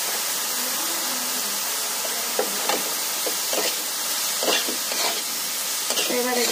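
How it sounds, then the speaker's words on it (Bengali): Eggplant fries in a pan with salt and turmeric, giving a continuous hissing sizzle broken by occasional scraping stirs. No one speaks. "তাহলে বেগুনটা ভাজা হয়ে যাবে"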